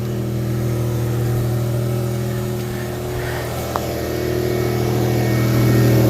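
A 1999 Toyota Camry V6 idles steadily close by with a leaking exhaust, a low, even drone holding throughout, broken by one brief sharp click near the middle.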